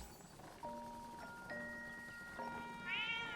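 A cat meows in The Legend of Zelda: Echoes of Wisdom as a few short, tonal game mews in close succession, ending in a higher, rising meow.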